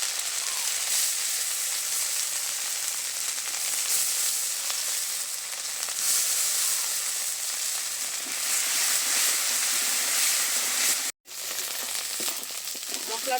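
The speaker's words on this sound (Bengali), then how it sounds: "মশলাটা নেড়ে চেড়ে কষে নিয়েছি।" Spice paste with ground cumin and turmeric is stir-fried in a pan for a chickpea dal, giving a loud, steady close-up sizzle that runs throughout with one brief cut near the end.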